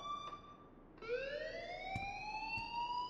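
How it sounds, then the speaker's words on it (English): An alarm in the Life is Strange: Chrysalis game rises in pitch as a faint electronic siren-like wail that sweeps upward and keeps sounding, with a few soft knocks beneath. "please turn off that alarm since that's your job"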